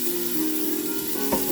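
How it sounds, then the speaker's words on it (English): Chicken legs sizzle steadily as they brown in a soup pot, with a brief stir or clatter near the end and no voices. "We're gonna brown the chicken up a little bit."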